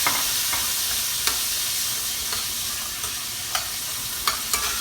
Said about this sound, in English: We're going to saute that. Let that sugar melt with this butter.